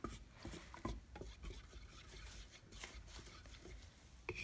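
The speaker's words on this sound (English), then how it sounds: "So I'm just going to stir it with my Home Depot stir stick here" A wooden stir stick scraping and rubbing inside a can of chalk paint, soft rhythmic rasping strokes with occasional knocks against the can, quiet and close with no talk.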